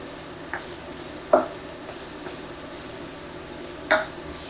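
Dried mushrooms cooking in oil in a pan give a soft, steady sizzle with a few louder stirring scrapes and clicks, close and alone without talk.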